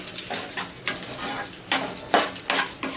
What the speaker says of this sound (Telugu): మెంతులు ఎండుమిరకాయలు బాగా మంచి రెడ్ కలర్ వచ్చేంత వరకు వేయించేసుకోవాలి